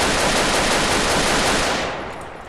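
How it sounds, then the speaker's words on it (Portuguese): A dense, continuous burst of rapid video game gunfire hitting a wall roars steadily for about two seconds, then begins to fade. "Mas vamos ver se parece os ricocheteios do tiro."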